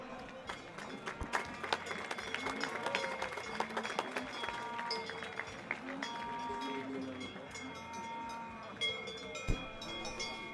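An arena audience applauds at an Italian competition event in Antey-Saint-André, with steady clapping that rises and falls over several seconds and a few sharper cowbell-like clanks mixed in.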